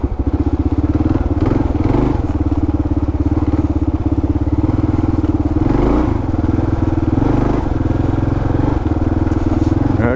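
Kawasaki KLR650 motorcycle fitted with a JD tuner, ridden off-road, runs with a loud, steady, close engine drone broken by occasional clattering thumps and slight shifts in pitch.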